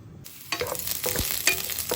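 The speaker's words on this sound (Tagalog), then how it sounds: "igigisa natin yung ating sinigang sa miso" Garlic hits hot oil for sinigang sa miso after a brief quiet moment, bursting into a close sizzle mixed with clinking stirring strokes and scraping.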